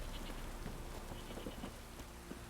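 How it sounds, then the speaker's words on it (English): A steady wash of heavy rain in The Witcher 3 video game pours down, broadband and unbroken, with scattered droplet patters; faint and continuous, no voices. "This downpour's a bastard."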